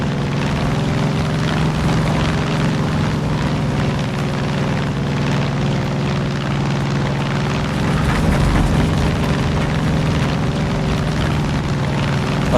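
Steady droning aircraft engine from a rusty plane in the video game Far Cry 5, a continuous loud hum with low harmonic bands running unbroken throughout, no voices present.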